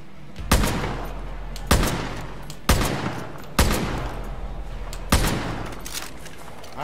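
Five loud single gunshots in the video game Far Cry New Dawn, spaced about a second apart, each a sharp crack with a lingering echoing tail.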